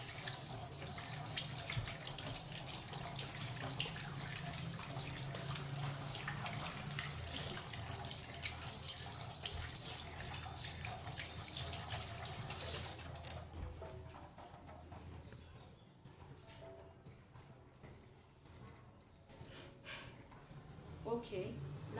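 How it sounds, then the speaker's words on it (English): A tap runs steadily into a sink while hands are rinsed, a loud hissing splash that cuts off abruptly partway through, leaving quieter room noise and faint handling sounds. "Finally, we are supposed to rinse our hands."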